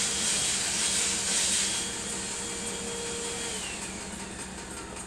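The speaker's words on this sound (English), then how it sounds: "The noise you hear is the vacuum cleaner." A vacuum cleaner drones steadily at close range, a broad whooshing motor roar that eases slightly in level partway through.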